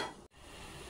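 Coconut and jaggery filling stirred and roasted in a pan, a steady close scraping with faint sizzle running through, broken by one brief silent gap.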